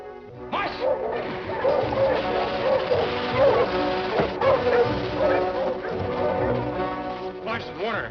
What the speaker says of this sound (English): Larson, Warner, help me harness my dogs